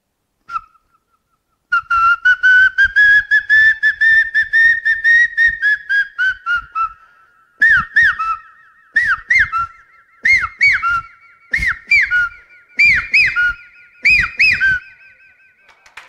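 A person whistles a loud, piercing imitation of a hawk-cuckoo call: a long rising-and-falling note, then a run of sharp repeated whistled phrases, quickening and close.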